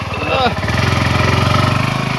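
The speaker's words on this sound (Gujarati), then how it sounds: "અપાચી બાઇક છે મિત્રો" An Apache motorcycle engine runs close by on a highway with a steady, rhythmic throb, after a brief voice at the very start.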